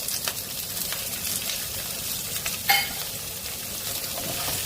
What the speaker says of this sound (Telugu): ఇలా కొంచెం వేగిన తర్వాత ఉల్లిపాయలు, పచ్చిమిరపకాయలు, కరివేపాకు